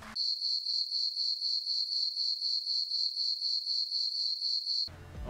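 Steady, rhythmic cricket chirping sound effect, a high trilling pulse repeating continuously and fairly loud, then cutting off abruptly near the end.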